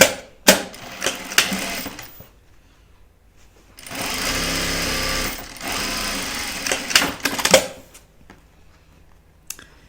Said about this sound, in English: So you're going to sew the bottom seam here and your vertical seam here using your 1/4 inch seam allowance